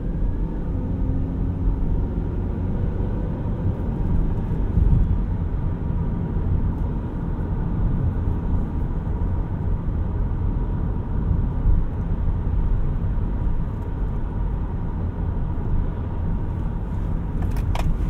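A 2013 Acura TSX Wagon's engine revs on a test drive, a steady low droning hum and road rumble heard from inside the cabin, holding a fairly constant pitch without talk.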